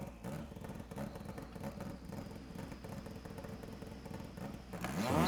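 A Mitsubishi EVO carrying the Escudo engine swap in Gran Turismo 7 gives a steady, buzzy engine drone that holds evenly, then swells louder and rises as the revs climb in the final moments.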